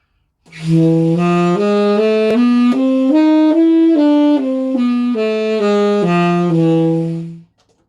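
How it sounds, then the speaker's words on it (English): A smooth, legato instrument plays a Byzantine (Misirlou) scale up and back down in even, steady notes, changing notes on the way down in the melodic minor manner, sustained and clear with no talking. "if I wanted to apply the classical melodic minor convention to this scale, this Byzantine scale, it should sound like this"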